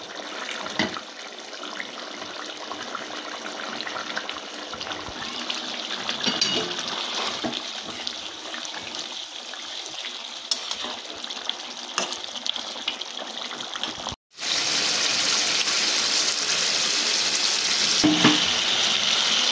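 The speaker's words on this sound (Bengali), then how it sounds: "এবার আমি ভেজে রাখা মাছগুলো একে একে দিয়ে দেবো" Fried fish pieces slide one by one into a boiling curry gravy for a Bengali fish kosha, giving a steady, loud sizzle and bubbling hiss. A sharp break near the end leads into a brighter, denser frying roar.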